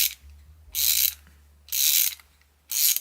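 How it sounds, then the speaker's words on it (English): Bursts of rapid ratchet clicking from a ratcheting screwdriver come three times, separated by short pauses, close and crisp against a faint low hum. "So here's the ratcheting screwdriver, it's a good length."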